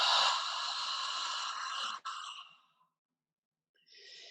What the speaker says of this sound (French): expirer tout par la bouche